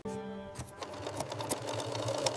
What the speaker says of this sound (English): Now we'll sew the seams together